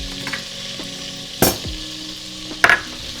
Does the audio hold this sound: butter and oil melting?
yes